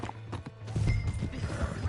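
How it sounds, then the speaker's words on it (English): Horse hooves clip-clopping in Red Dead Redemption 2, a few close, uneven hoof strikes on the ground with no talking. "Hey, that's my horse!"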